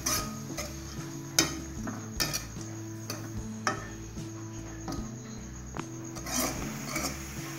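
Carrots stirred into egg and vegetable noodles in a pan, with soft scraping and clinking strokes at a steady rhythm over a faint sizzle, close by and alone.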